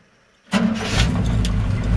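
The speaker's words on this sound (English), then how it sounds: "starts with the touch of the key. Got a little 350 GM engine in it." A 1957 Chevrolet 3100 pickup with a 350 GM V8 cranks and fires at once after a moment of silence, then settles into a steady, close, loud idle rumble with no talking.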